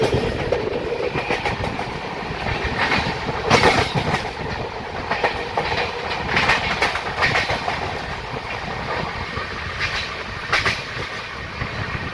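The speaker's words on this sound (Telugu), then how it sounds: "ట్రైన్ యొక్క స్పీడ్ చూడండి" Pinakini Express with LHB coaches running at high speed between Vijayawada and Chennai Central: a steady loud rush of wheels and rail noise with rhythmic clickety-clack from inside the train.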